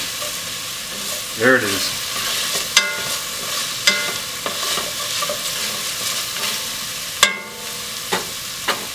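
Two cloves of garlic sautéing in a pan for a pork and Hatch chile stew, a steady frying sizzle broken by occasional sharp scrapes and taps of a utensil, with a brief spoken remark over it.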